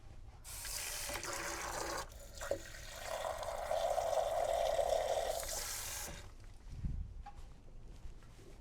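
Water pours from a kitchen tap into a container for butternut squash soup, a steady close hiss and splash running for several seconds before stopping, followed by a faint thump.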